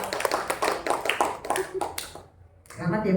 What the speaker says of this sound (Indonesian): Tepuk tangan dulu untuk Bu Yun.